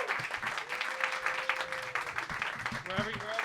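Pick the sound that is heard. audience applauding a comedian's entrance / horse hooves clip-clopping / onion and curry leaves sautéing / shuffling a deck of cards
audience applauding a comedian's entrance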